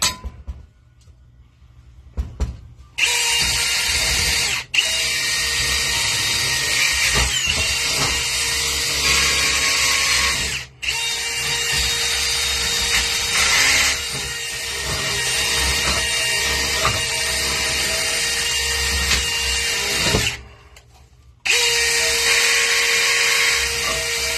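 A power drill whirs loudly in long steady runs while working on a vintage 1920s floor lamp, stopping briefly a few times between bursts, close by with a high whining tone.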